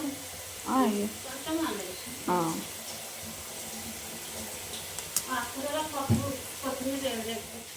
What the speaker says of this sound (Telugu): ఇప్పుడు అంటే మిల్మేకర్ ఫ్రై అయినట్టు